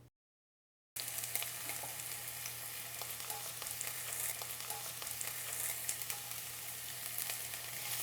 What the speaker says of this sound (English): Saute the onion till they are lightly brown.